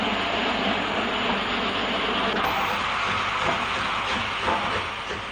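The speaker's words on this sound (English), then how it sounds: "She departs after this permission, passing the cabin used by crews in the control relief link of the depot." An 8F steam locomotive leaves the engine shed at Stockport Edgeley depot, a continuous broad rumble and hiss of rail movement with faint rhythmic clanks, fairly loud and steady throughout.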